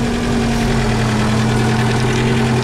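An old engine idling after starting, a loud steady low rumble with constant vibration and a sustained hum, no voices over it.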